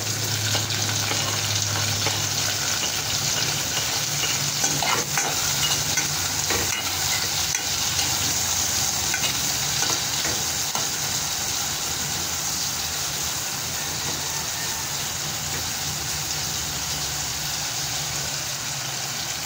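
Ginger and tomato stir-fried in a pan, a steady, dense sizzle and crackle running continuously and close throughout with occasional stirring scrapes, no talking.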